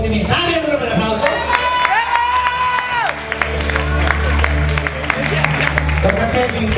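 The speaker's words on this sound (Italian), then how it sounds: "Dai, allora per l'applauso." Audience applause and cheering at a drag queen pageant in Veneto, a steady crowd roar with clapping, whoops and shouts throughout, under a loud sustained music tone and occasional voices.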